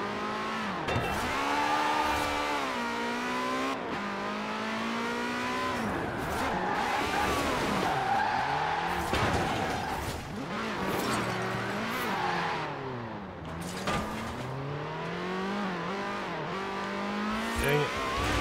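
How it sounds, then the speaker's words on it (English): A car drifting in the racing game Forza Horizon 4, its engine revving up and down through gear changes while tires squeal through corners, continuous and close for the whole stretch. "Just drift the corners."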